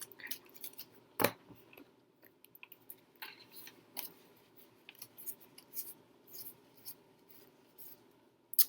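Tarot cards are shuffled close up in a quiet room, giving dry papery swishes and flicks in uneven bursts, with one sharp snap near the start, and no talking.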